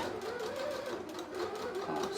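Sewing machine stitching fabric for a small oral hygiene kit pouch, a continuous close whirring hum with rapid needle rhythm, steady and fairly quiet.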